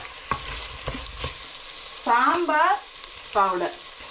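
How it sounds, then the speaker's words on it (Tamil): Dal rice is stirred in a pan after salt is added, with a few sharp scrapes and taps of a spoon over a soft background sizzle, followed by brief close voice-like tonal sounds. "அதையும் அப்படியே நல்லா மிக்ஸ் பண்ணி போட்டு"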